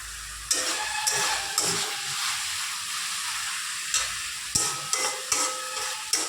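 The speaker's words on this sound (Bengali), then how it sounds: "শাকটা আমাদের ভাজা হয়ে গেছে" Red amaranth greens frying in a pan with dry red chilli and garlic, giving a steady close sizzle and hiss with several sharp stirring scrapes spaced through it, no talking.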